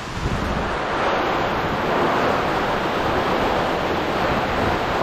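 Strong storm wind roars without a break, with heavy gusty rushing and microphone buffeting filling the whole stretch at a loud, steady level.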